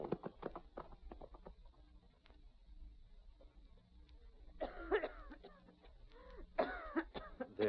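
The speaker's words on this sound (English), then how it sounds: "Try to stop coughing." A woman in an old radio drama coughs in harsh, repeated fits with pauses between them, over faint hoofbeats. Other voices speak in the scene.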